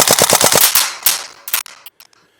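A Tokyo Marui Saiga 12 gas blowback airsoft shotgun fires full auto, a rapid, loud burst of sharp close-range pops followed by a few slower trailing shots.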